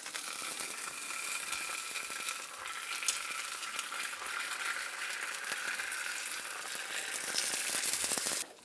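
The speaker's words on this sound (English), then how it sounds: "We dip our tortilla in the top part where there's more fat." A tortilla dipped in birria fat fries in a warm pan, giving a steady close sizzle with crackling pops that swells slightly toward the end, no voices.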